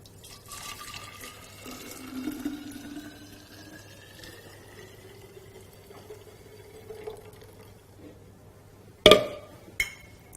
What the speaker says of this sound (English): I'm going to pour it into a clean jar